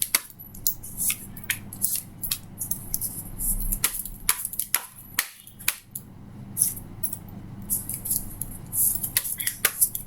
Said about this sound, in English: I will just shuffle, and whatever falls out is going to be the guidance for you.